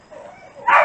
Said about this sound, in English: Please excuse the barking pack because they're jealous.